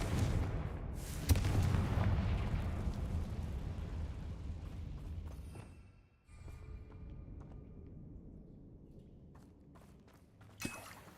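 A Confringo fire spell explodes in Hogwarts Legacy on PS5: a loud, close burst of booming rumble that rolls on and slowly fades, followed by a few scattered thuds.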